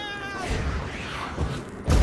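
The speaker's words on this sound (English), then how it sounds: "What's with the overgrown demon cats?" Oversized demon cats from The Witcher 3 snarl and yowl close by, a whining cry giving way to rough growling and a heavy thump at the end.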